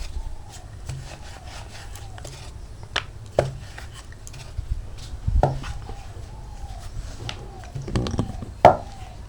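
Small portions of momo dough rolled thin with a rolling pin on a floured board, giving soft repeated rubbing and rolling strokes with occasional wooden knocks and clacks, fairly close and moderately quiet.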